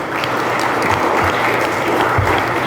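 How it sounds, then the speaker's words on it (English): A university audience gives a dense, loud round of applause, many hands clapping together in a steady, close wash that holds evenly throughout. "Round of applause for all of you guys"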